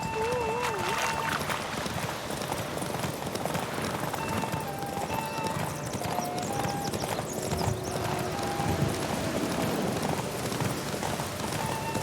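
Rapid hoofbeats of several horses galloping continuously in a race in The Witcher 3: Wild Hunt, with game music and voices layered over the steady drumming rhythm.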